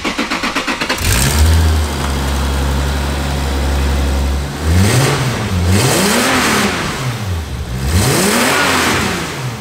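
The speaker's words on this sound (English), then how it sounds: "Before it made zero boost for you revving it." A turbocharged Toyota Supra MK4 engine idles loudly up close, then revs several times in rising and falling swells, each rev climbing and dropping back.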